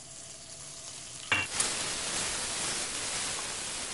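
Finely chopped curry leaves hit hot tempering oil with asafoetida for peanut chutney, setting off a sudden loud sizzle that keeps hissing and crackling steadily to the end.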